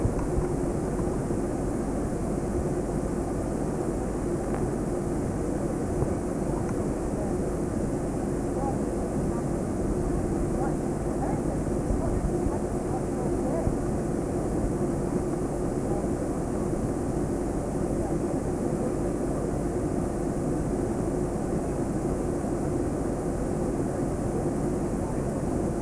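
A steady, continuous airliner cabin drone fills the whole stretch during a flight into London in 1994, loud and unchanging, with occasional faint talk underneath.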